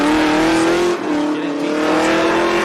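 A drift car at competition drifting at Holley LS Fest East 2024, its engine revving loud and sustained close by with a brief dip as the car is flicked sideways, tire noise mixed into the steady roar.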